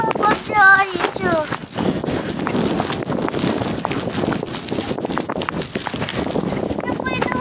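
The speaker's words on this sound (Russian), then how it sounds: "Ой, ветрище какой." Gusty wind rushes and buffets the microphone throughout in a village with snow blowing, with brief voices at the start and end over the blustery noise.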